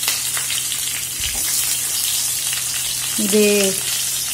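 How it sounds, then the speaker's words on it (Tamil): Small shallots sizzle in a pan for Madras-style aviyal, a steady broad frying hiss throughout with a brief stir or clatter near the end, and a voice speaks briefly. "இதில் இப்போ நம்ம வந்து சின்ன வெங்காயம் வச்சுருக்கோம் இல்லைங்களா, அதை போட்டுடலாம்."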